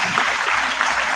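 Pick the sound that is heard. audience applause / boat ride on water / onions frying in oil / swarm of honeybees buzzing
audience applause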